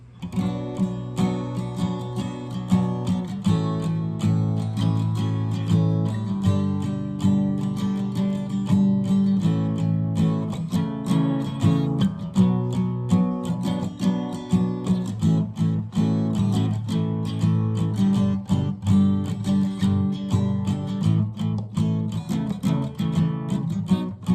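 Acoustic guitar strumming full chorus chords in a steady, driving rhythm, close and fairly loud, with no voices.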